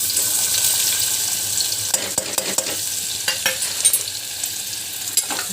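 Onion with turmeric and salt is sautéed in a pan, a loud, steady frying hiss joined partway through by quick, irregular scraping strokes of the stirring spoon.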